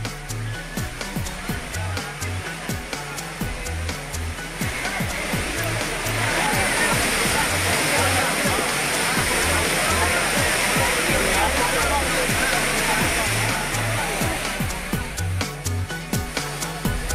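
Courtallam waterfalls in Tenkasi district cascade with a loud, steady roaring rush of water, crowded with bathers, under a rhythmic news-bulletin music bed that pulses throughout.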